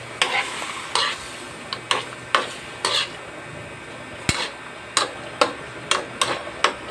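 Pork ribs cook in a pan with Sprite, giving a soft background simmer broken by a dozen or so sharp clinks and scrapes of a utensil stirring against the pan at an irregular pace.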